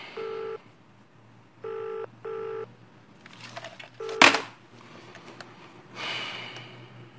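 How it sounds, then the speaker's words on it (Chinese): An office telephone rings in three short electronic bursts with pauses between, followed by rustling, a handset being picked up and a faint breath, fairly quiet and close. "小韩，电话。"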